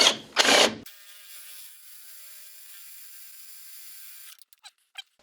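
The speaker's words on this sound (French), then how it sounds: "on vient percer complètement la tête" An electric drill bores through a screw head on a Peugeot 205 GTI engine during wiring-harness removal: a steady high whir for about three seconds after a brief clatter, then a few sharp metallic clicks as it stops.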